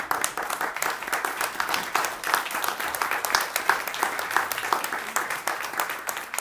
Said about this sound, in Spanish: para que le dé una grande aplauso